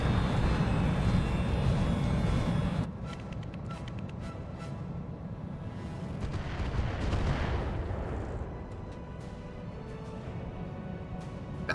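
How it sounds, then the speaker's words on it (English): Indirect artillery fire in the mech strategy game RogueTech, heavy rumbling booms and a steady roar of distant bombardment that shifts and swells over a dense, continuous low background. "That was definitely some indirect fire"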